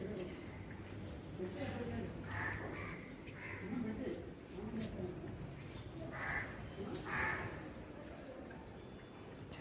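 Crows being fed chapati give several faint, scattered caws in a quiet outdoor setting, with a soft voice in the background.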